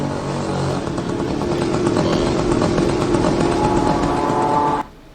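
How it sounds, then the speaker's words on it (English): A drone's small piston engine, a Chinese redesign of the German Limbach L550 moped-style engine, buzzes steadily and loudly at close range like a motorcycle for nearly five seconds before cutting off abruptly. "allowing the piston engine to take over. Hence, the motorcycle sound."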